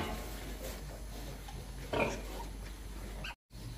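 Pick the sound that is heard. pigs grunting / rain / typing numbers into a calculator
pigs grunting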